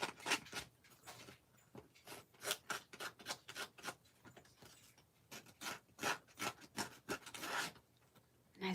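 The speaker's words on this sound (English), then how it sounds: "why don't we just stress the edges of this one?" A tool rasps and scrapes along the edges of a paper card to distress them, in quick repeated rubbing strokes with short pauses, close and fairly quiet with no talk.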